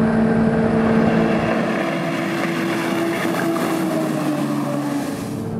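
Deep steady engine drone of a racing motorboat with a 6.7-litre, 550 hp Mercury diesel engine, loud and close, with a constant hum that eases slightly toward the end.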